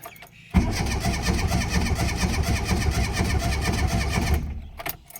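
A Ford Escort MK3 GLE engine, fitted with another battery, cranks and catches after half a second, running loud and rough for about four seconds before cutting off, with a faint click afterward.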